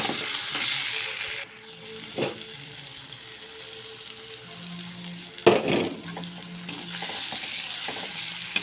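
Chicken masala with turmeric and chili powder, cooked with cumin and fenugreek, fries in a pan under a soft sizzle while a spoon stirs it, with a few sharper scraping knocks against the pan.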